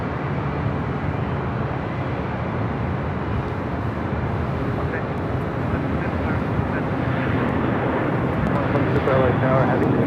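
Steady, continuous jet roar from an airliner at Los Angeles LAX airport, heard as a broad wash of engine noise without a break, with faint voices underneath.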